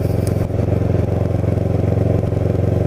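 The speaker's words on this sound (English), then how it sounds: "it's been at least a month or two since I took a ride over to Wildwood on the motorcycle" A Kawasaki Ninja 650R is ridden through the Wildwoods, its engine giving a loud, continuous low throb with a fast, even pulse and rattly overtones, plus a faint ticking near the start.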